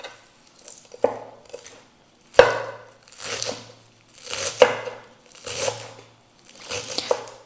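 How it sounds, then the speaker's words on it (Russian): Fresh coriander, parsley and dill are finely chopped on a board in about six distinct bursts of close knife strokes, with quiet gaps between them. "Я буду сегодня использовать кинзу, петрушку и укроп. Мы порежем мелко"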